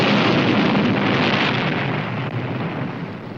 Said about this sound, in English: tests of the wreckage show that the explosions are of atomic origin